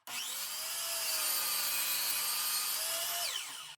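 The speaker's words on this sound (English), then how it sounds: "cut the 45-degree bevel on each end" Table saw cutting a 45-degree bevel on a wooden piece for a wren birdhouse, one steady high whine lasting a few seconds, rising as the blade enters the wood and dropping off as the cut ends, close and alone.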